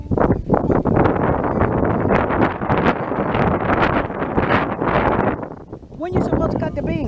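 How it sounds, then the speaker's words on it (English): Wind gusting across open farmland, a steady broadband rush that stays loud and unbroken throughout, with voices talking over it and a brief rustle near the end. "the wind is blowing"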